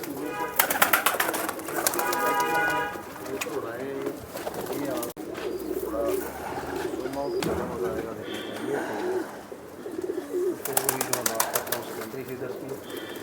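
Pigeons coo and flutter in a backyard loft kept by a longtime pigeon fancier in old Jammu city, soft repeated coos under steady nearby talk with occasional wing flaps and bird calls throughout.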